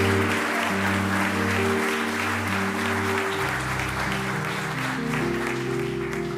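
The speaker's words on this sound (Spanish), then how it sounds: "Dele fuerte ese aplauso a Dios." Church congregation applauding loudly and steadily throughout, with sustained organ or keyboard chords playing underneath the clapping.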